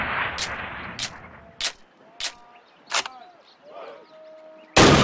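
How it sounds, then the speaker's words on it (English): Rifle shots fired at a target on the Call of Duty training range, about six sharp single cracks spaced roughly a second apart, with a much louder final blast, and faint background tones between shots. "Now fire 2 rounds at your target while aiming down your sight."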